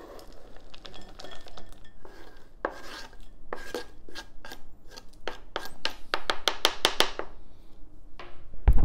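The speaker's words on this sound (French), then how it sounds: "Et on vient mélanger le chocolat dans la préparation à muffins." Chocolate pieces are stirred into muffin batter with a utensil scraping a bowl, a dense run of close, rasping scrapes and clicks that grows busier and louder toward the end.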